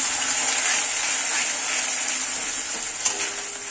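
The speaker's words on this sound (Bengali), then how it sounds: "এই পেস্টটা আমি এই তেলের মধ্যে দিয়ে দিচ্ছি" A paste of spices and a little tomato hitting hot oil, a dense continuous sizzle up close with faint stirring clicks near the end.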